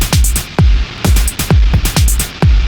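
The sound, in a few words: distortion from the Eventide MangledVerb plugin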